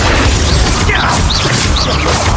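Spell blasts in the video game Hogwarts Legacy boom and crash continuously over loud, dense game noise, with several sweeping whooshes layered in; no clear talk over the short burst.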